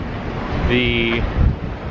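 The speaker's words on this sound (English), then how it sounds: "And it's really windy, extremely cold" Strong outdoor wind buffeting a microphone in cold weather in Central Park, New York, a low rumbling roar throughout with a brief tonal whine in the middle and a gust near the end; a word of speech is briefly audible.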